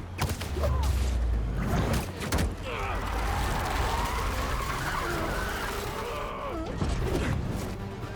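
A car drifts through city streets in the Spider-Man 2 video game, tires skidding and squealing loudly over engine roar for several seconds, with game characters speaking over it.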